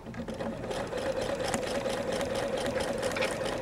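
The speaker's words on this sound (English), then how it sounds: "Now I will sew off onto a second anchor cloth." Sewing machine running steadily as it stitches fabric off onto an anchor cloth, with a continuous close, even mechanical hum and rapid needle rhythm throughout, no voices.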